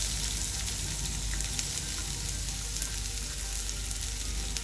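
Chopped onion sizzling in hot oil in a pan, a steady dense frying hiss that holds throughout with no one speaking.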